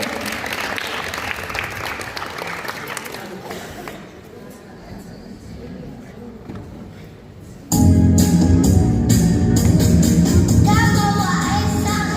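Audience applause at a children's preschool musical fills the hall, steady clapping that eases to a softer wash midway, then surges loud again near the end over a dense crowd roar.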